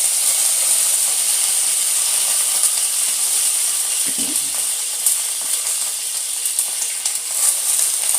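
Curry leaves drop into hot oil just after the mustard seeds have popped, while vazhakkai poriyal is being cooked. A loud, steady sizzle and crackle runs throughout with no voices.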